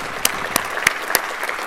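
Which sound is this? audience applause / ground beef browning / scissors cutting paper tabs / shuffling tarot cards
audience applause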